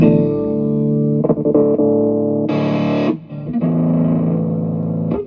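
Electric guitar through a heavy distortion effect, sustained chords and notes ringing loud and buzzy with a few short muted breaks and a bright burst in the middle, played alone with no talk.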